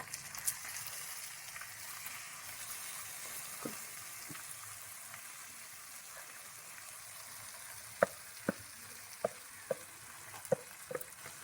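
Moong dal frying with spice masala in a pan gives a steady soft sizzle throughout, with several sharp ticks and clinks of stirring or spoon contact near the end.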